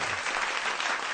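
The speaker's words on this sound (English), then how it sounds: "I'm going to even give myself a round of applause" A round of applause, many hands clapping in a steady dense patter that stays loud and even for just over a second, with no voices over it.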